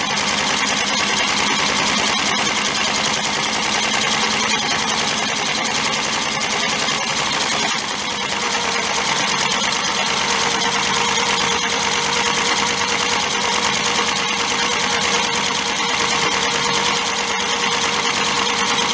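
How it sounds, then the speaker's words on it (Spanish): Home sewing machine running steadily through a decorative filling stitch, shaped like a looping letter E, to fill in a bow shape; a continuous dense whir with a fast mechanical rhythm, close and loud throughout, with no talking. "Vamos a rellenar el lazo con la puntada coloncito."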